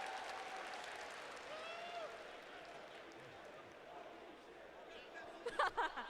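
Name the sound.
crowd applauding and cheering at Evo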